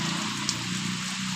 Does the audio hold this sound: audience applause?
no